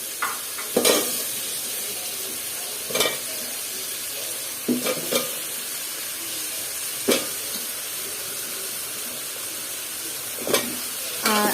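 Bottle gourd with shrimp and tomato stir-frying in a pan: a continuous hissing sizzle broken by several sharp scrapes and clanks of a spatula against the pan, spaced a few seconds apart.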